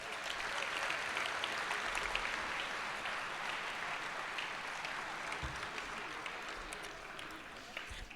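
An audience at the 2019 Reapercon awards ceremony gives a sustained round of applause, an even, dense patter of clapping at moderate distance that tapers slightly toward the end.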